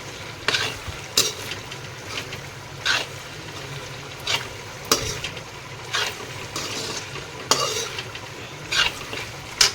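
Chopped onions frying in a pan for an okra (bhindi) curry, with a steady sizzle under repeated scraping and clinking strokes of a spoon stirring against the pot, close and moderately loud.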